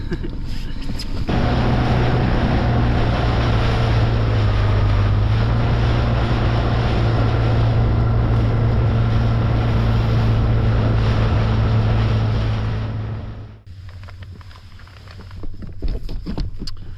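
Fishing boat motoring away after raising anchor at sea off Poole, engine droning loud and steady under wind and water noise, then cutting off abruptly near the end.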